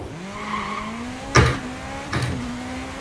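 A rally car in the EA WRC 24 video game skids out of control. A droning engine tone runs under two sharp impact-like bursts of tire scrub and crunching.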